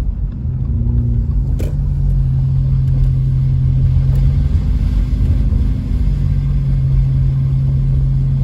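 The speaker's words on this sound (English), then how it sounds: "We're turning down Sugarloaf Boulevard, driving through the neighborhood." A car drives through a neighborhood near Big Bear Lake, its engine and road rumble a loud, steady, close drone heard from inside, with no voices.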